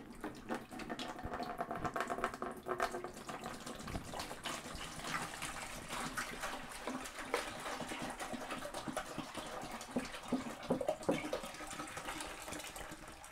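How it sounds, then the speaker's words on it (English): Pasteurized cherry juice pours steadily into a fermenting bucket for small-batch cider, a continuous close gushing, splashing flow at moderate level, with no talk. "adding your juice to your fermenting bucket."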